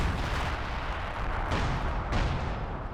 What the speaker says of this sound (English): I've got this howitzer doing a barrage here.